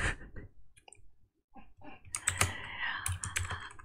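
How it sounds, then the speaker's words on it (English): Rapid clicking keystrokes on a computer keyboard, bursts of typing with brief pauses, close and fairly loud, no voices. "I'm typing this out as well."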